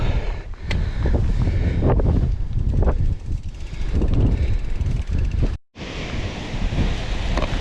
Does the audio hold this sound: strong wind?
yes